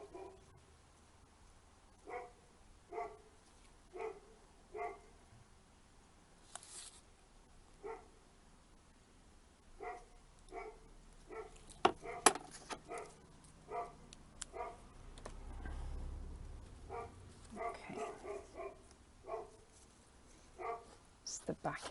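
A neighbour's dog barks repeatedly at a distance in a quiet room, sharp single woofs spaced irregularly, faint under occasional soft handling noises and a low rumble.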